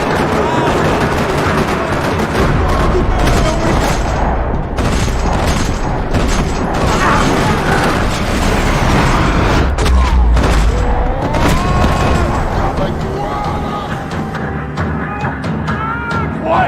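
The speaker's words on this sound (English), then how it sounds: "Another parking lot rattling with gunfire." Rapid bursts of video game gunfire rattle continuously with booms and explosions, loud and dense, with occasional game voices mixed in.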